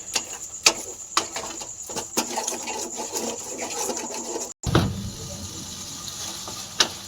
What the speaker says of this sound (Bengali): তারপরে নাড়তে থাকবো।